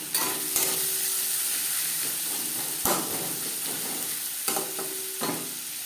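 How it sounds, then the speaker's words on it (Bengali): Chopped onion fries in oil left over from frying duck eggs, making a continuous close sizzle. Stirring scrapes and knocks come through at intervals. "ডিম ভেজে নেওয়া তেলে দিয়ে দেব পেঁয়াজ কুচি"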